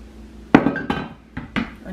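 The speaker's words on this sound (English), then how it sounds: "I'm going to bring my pot down in the sink here." A metal cooking pot being set down in a kitchen sink, a few sharp clanks and knocks in quick succession, close and fairly clear, with no speech.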